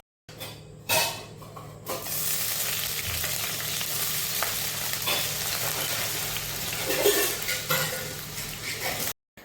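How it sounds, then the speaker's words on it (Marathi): A ghee tempering crackles in a kadhai with a dense, continuous frying hiss. Occasional pops and stirring clinks of a pan break it up, and it stops abruptly at the end. "मी ना कढईत छान अशी ना तुपाची फोडणी घातली होती"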